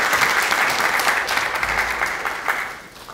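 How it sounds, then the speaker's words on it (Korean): Dense applause from a lecture audience welcoming presidential candidate Lee Nak-yon, steady and sustained, tapering slightly toward the end. "우리 이낙연 대통령 후보님을 큰 박수로 환영해 주시기 바랍니다."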